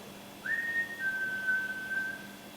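A single long whistled note, clear and steady, rises briefly and then holds for about two seconds in a quiet room during a paranormal investigation.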